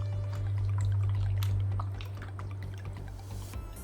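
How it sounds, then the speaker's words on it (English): Hot water and soap being mixed for wet felting a wool bowl, with liquid pouring and dripping close by over a steady low hum, a few brief splashes and drips scattered through. "I'm just going to get some of the soap in the hot water"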